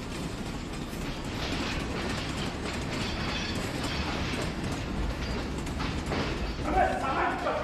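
Train sounds at a railway station, a steady rumble with faint clattering running throughout, with people talking over it at moderate loudness.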